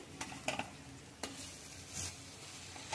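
Vermicelli upma being sautéed in a pan, a soft steady sizzle with faint stirring scrapes and a few light clinks, close and fairly quiet.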